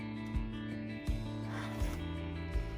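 Rotary or scissor cuts slice through quilt fabric to smooth one edge, producing a few short rasping strokes at a regular pace, close up with no talking.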